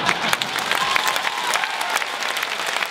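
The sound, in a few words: audience applause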